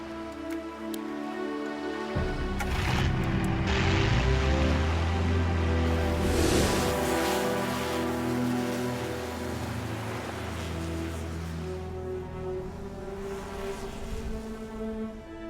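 Ocean waves break on a shallow reef at the Great Barrier Reef, a loud surging roar that swells and holds steady, layered over sustained musical tones.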